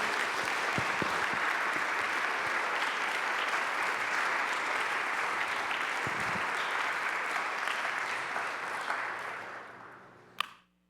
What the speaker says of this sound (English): So if we could give Kathy a big round of applause